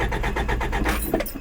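A Toyota truck's engine cranks and turns over, a steady rhythmic churning of the starter and motor close by with a low rumble underneath, no talk over it.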